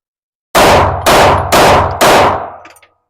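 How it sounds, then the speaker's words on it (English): Four loud, closely spaced gunshots come from a Beretta APX pistol firing a 17-round magazine. The evenly timed cracks each ring briefly and fade into a short tail of echo. "That was 17 round mag straight through. All right, 17 rounds going down range."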